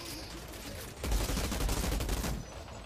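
Rapid gunfire in the Outriders video game, a dense, sustained burst of shots that begins after a brief lead-in and stays loud and close throughout.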